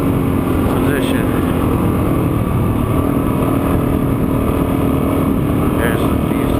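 A dual sport motorcycle is ridden through deep sand in Camp Creek Wash, Arizona, its engine droning steadily at a constant throttle under heavy wind noise while a rider talks.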